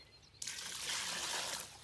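Water pours from a bucket into a mortar mix for a farm milkhouse repair, a faint trickle starting suddenly and then running steadily for over a second.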